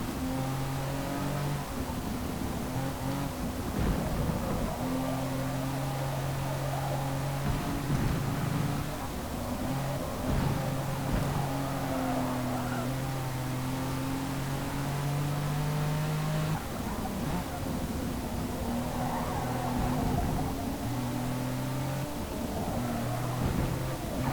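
A racing car engine in Forza Motorsport drones loudly and continuously, rising and falling through revs and gear shifts as the car laps the track, with a faint voice occasionally underneath.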